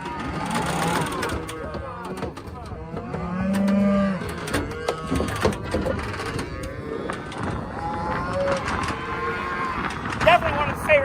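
Cattle mooing loudly and repeatedly as cows are turned out to grass on a farm in spring, long drawn-out calls near the microphone with people talking in between.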